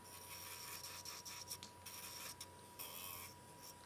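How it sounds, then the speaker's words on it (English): A fine sanding band on an electric nail drill roughens a nail cuticle, giving a steady, faint, continuous rasping whir with small scratchy fluctuations. "roughen the cuticle slightly with the fine sanding band."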